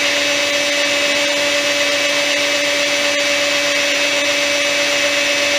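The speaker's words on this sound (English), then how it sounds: "I want to drill a small hole coming from there at an angle down into that base" A drill at high speed bores a small angled hole into a wooden lamp base turned from a monkey puzzle branch, giving a loud, steady whine that holds unbroken from start to finish.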